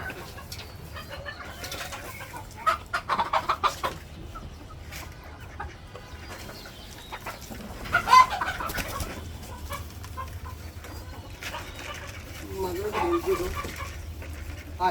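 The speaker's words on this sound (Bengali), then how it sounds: "মুরগি।" Chickens peck at feed on a rooftop farm, clucking and cooing softly in short bursts while a person talks nearby.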